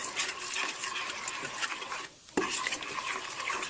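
A spoon stirs powdered milk and dehydrated onions into potatoes in a pot, a rapid scraping, rustling stir that pauses briefly and then resumes, close and with no voices.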